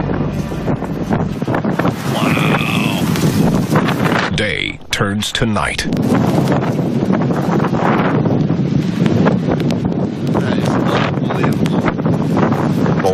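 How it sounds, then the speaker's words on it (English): Strong wind gusts roar during a sudden storm that darkens the sky to night, buffeting the microphone in loud, continuous rushes while a person exclaims. "I realized how fast that the gusts were"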